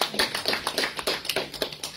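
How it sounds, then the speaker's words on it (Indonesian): A church congregation claps their hands during a sermon, producing brisk, evenly spaced claps in a steady rhythm with no talk over them. "Beri tepuk tangan dong buat Tuhan Yesus."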